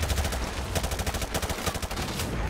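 Rapid automatic gunfire in Call of Duty: Modern Warfare 2 Remastered during a battle in Afghanistan: sustained bursts of fast repeating shots, loud and close, with dense overlapping reports and no talk.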